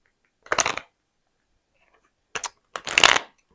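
A deck of tarot cards is shuffled close up in three crisp bursts of riffling, one short run followed by a pause and then two quick ones, with no talk over them.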